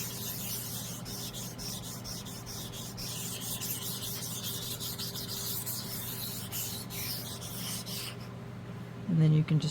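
Resin being wet-sanded by hand with water, a steady soft rubbing rasp running continuously close up, with a low constant hum beneath and a brief louder bump at the end.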